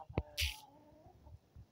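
Hens clucking on a farm in January, a few short, fairly close clucks and calls with a brief rustle between them.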